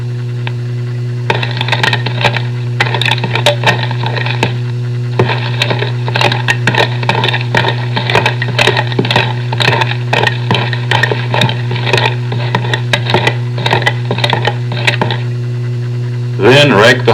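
Someone imitates struggling bucks kicking and digging their feet into the ground with irregular scraping, crackling and thumping bursts, close and fairly loud over a steady low hum of an old recording.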